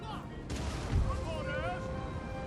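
Musket volleys and artillery fire crack and boom from a Napoleonic battle in Total War: Napoleon, a sharp burst followed by rumbling reports amid game music tones.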